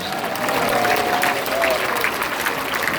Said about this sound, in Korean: 우리 장경동 목사님께도 감사의 박수를 보내십시오